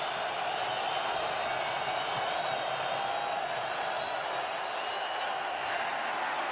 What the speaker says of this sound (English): Listen to the crowd on a 3rd and long for the Chargers.